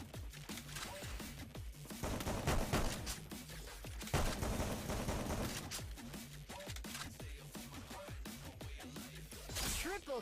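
Rapid gunfire bursts from a Max 7 gun in a Free Fire esports semi-final match crackle in dense clusters, mixed with game effects and an excited commentator talking over them.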